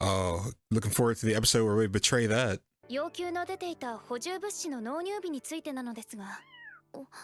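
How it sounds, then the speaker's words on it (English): A cat meows in an episode of the anime 86. The brief cry comes near the end, after stretches of lively talk from people reacting. "I thought that was my cat."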